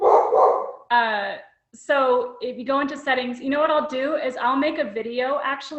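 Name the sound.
dog barking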